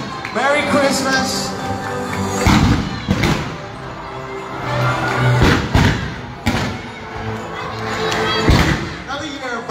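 Fireworks go off at a Christmas tree lighting at a shopping mall: several deep booms land every second or two over a lively crowd of cheering children and adults, with people talking throughout.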